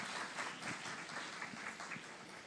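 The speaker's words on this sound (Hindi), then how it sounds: "तो आप सब लोगों की जोरदार तालियां बजती रहनी चाहिए" Faint, distant applause from an audience at a media event with Bhojpuri actress Akshara Singh, a steady patter of many hands continuing evenly with no voices over it.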